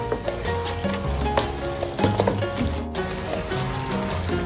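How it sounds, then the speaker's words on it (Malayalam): Cornflour slurry poured into simmering gravy for Chinese idli, with a steady bubbling sizzle and stirring scrapes close by, no voices. "നമുക്ക് 1 ടേബിൾ സ്പൂൺ കോൺഫ്ലോർ വെള്ളത്തിൽ കലക്കി ഒഴിക്കാം."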